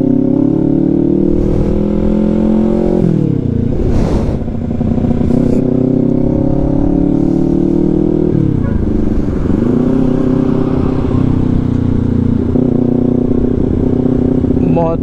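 An underbone Motorstar motorcycle rides along an expressway toward a toll gate, its engine droning steadily with shifting pitch as revs rise and dip, mixed with other road traffic for the whole stretch.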